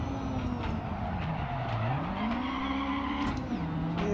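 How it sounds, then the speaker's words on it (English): Rally car engines in the video game Dirt 4 rallycross: a nearby engine drones and rises and falls in pitch as it revs, with brief tire squeal and skidding, fairly quiet. "I keep hearing all these engine sounds next to me."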